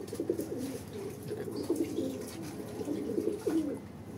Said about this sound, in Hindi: ये कबूतर हमारा देखो ऊपर आ गया है